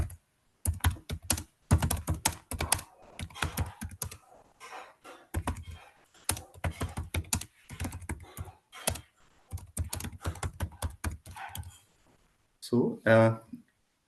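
Keys rattle on a computer keyboard as an email message is typed, quick clattering bursts in irregular runs separated by brief pauses, up close, with a voice speaking at times.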